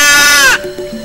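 A goat bleats loudly and close with a single wavering cry that breaks off about halfway, leaving a quiet background hum, set in a village sacrifice scene.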